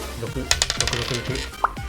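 Dice clatter and bounce across a hard surface in a quick series of sharp clicks that taper off, with a short high squeak near the end.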